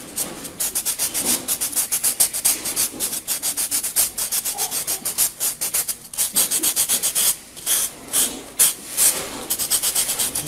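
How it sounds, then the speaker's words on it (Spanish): Small sandpaper rubs an edge in quick back-and-forth strokes, a dry rhythmic rasping that repeats steadily at close range and pauses briefly partway through. "Ya con la lijita le voy a dar el pequeño toquecito final para que no quede nada de borde."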